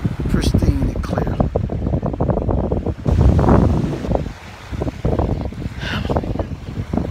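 Surf washing ashore on a Punta Cana beach in the Dominican Republic, a steady roar of breaking ocean waves mixed with gusty wind buffeting the microphone, with people talking over it throughout.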